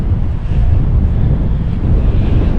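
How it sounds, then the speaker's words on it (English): Sea wind buffets the microphone at a pier in Clacton-on-Sea, with a heavy low rumble and the wash of waves underneath, loud and continuous with no talking. "So literally got the sea right there, just loads and loads of sea."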